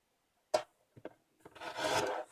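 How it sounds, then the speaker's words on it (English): Cardstock strip cut into pieces by hand, a couple of short crisp snips followed by a longer rustling scrape, close and quiet with no talking. "I will cut two pieces of it, each 5 inches long."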